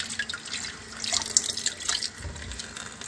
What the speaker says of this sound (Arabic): نغسله كويس اهو تحت الميه.